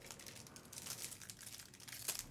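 Plastic wrapping on a 2025 Bowman trading card box crinkles and crackles steadily, close and fairly quiet, with a sharper tearing crunch near the end.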